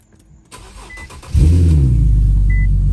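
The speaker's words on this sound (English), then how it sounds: "Let's fire it up. Cold start." A car engine cold start after sitting a week: a starter whirs briefly, then the engine catches with a loud, close roar that settles into a strong, steady idle, with a faint chime beeping in the background.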